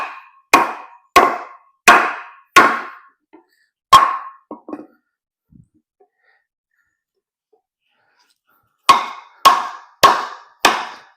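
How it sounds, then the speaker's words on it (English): A 6 mm Jeabrother DC53 steel drop point knife is batoned through a log. Sharp, close thuds come in a quick run of four, then a single strike, a long silent pause and another run of four. "We are just going to baton through it and then I'll process it."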